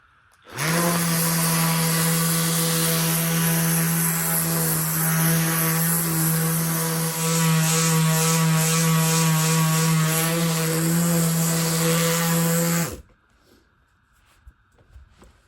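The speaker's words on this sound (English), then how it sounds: "Anyway, back to sanding." A loud electric sander works on oak, whining steadily for about twelve seconds, its motor hum droning without a break, then cuts off abruptly into near silence.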